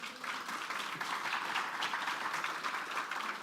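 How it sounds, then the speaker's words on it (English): Audience applause at an eTwinning education workshop, a steady broadband patter of many hands clapping continuously and evenly at moderate level for the whole stretch, with no talk over it. "Could I have applause for them?"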